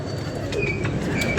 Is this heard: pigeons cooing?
yes